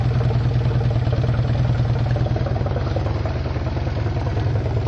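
A Kawasaki KZ motorcycle idling steadily through its rewrapped exhaust pipes, a loud, close, even low-pitched thrum with a regular pulsing beat and no voices.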